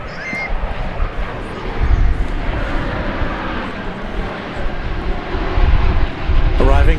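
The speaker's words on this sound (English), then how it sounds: "Arriving from Narita Airport in Tokyo, this 787-800, or 8, not 800, 787-8." Boeing 787-8 airliner arriving from Tokyo Narita at Dallas Fort Worth Airport, a steady broad jet engine roar that swells slightly toward the end, with a person talking over it throughout.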